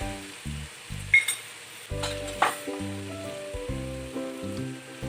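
Cumin seeds sizzle in hot oil for a jackfruit and kabuli chana biryani, a steady crackling fry over background music, with a few sharp clinks.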